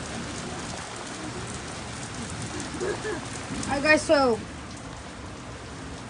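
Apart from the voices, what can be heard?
heavy rain falling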